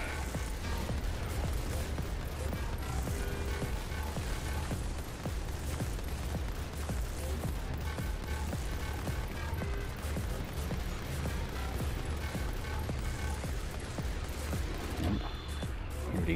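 Defence turrets firing in the Mechs Versus Kaijus video game on PS5: a continuous dense stream of rapid, crackling gunfire and mechanical clatter, steady and fairly distant, with no pauses across the whole stretch.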